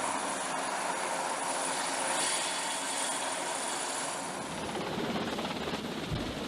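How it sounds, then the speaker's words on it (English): Steady broadband rotor roar of a military cargo helicopter moving supplies between ships, loud and continuous throughout, with a faint high whine riding on top. "This method uses helicopters equipped with cargo hooks and netting to move supplies from one ship to the other."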